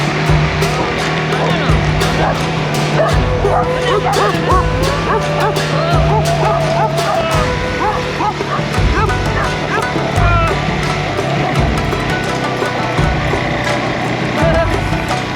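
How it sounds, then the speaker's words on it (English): Several agitated dogs bark, yap and yip loudly and continuously beside a road in Taiwan, with traffic rumble and an occasional honk underneath and a voice now and then. "Somewhere around here I passed some really crazy dogs."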